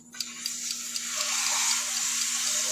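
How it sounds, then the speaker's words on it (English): Steady crackling sizzle of meat frying in melted butter in a hot pan, close and continuous, growing slightly fuller as it goes on. "Already, I can hear it sizzling."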